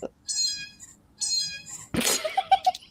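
A cat meows twice in long, nasal calls close by, followed by a short breathy burst and a few small chirps at the end.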